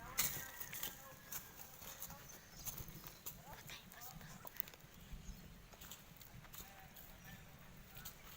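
Horse hooves clip-clopping at a steady walking rhythm as the animal is ridden outdoors, moderately close, with voices chatting over them.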